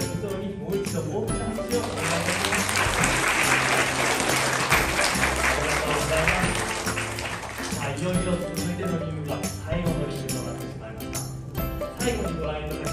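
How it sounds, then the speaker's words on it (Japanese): Loud, sustained applause from a large crowd at a beluga whale bubble ring show in Aquas aquarium, Shimane, swelling in the middle before tapering off, with music and voices mixed underneath. "もう一度大きな拍手をお願いします。"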